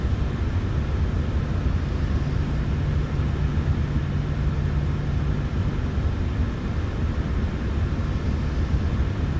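An airplane engine in a flight simulator video game runs steadily before takeoff, a constant loud rumbling drone with a faint tonal hum, no talking.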